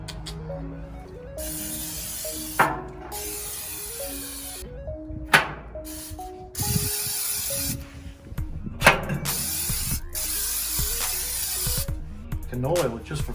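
Canola oil is sprayed onto a grill in several separate hissing bursts from an aerosol can, with clanks from handling in between and someone talking over it.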